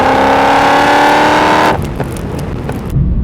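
A BMW E9X M3 engine revs hard at high pitch toward 8,600 RPM, holding a loud whine, then cuts off abruptly into a quieter rumble with faint rattles.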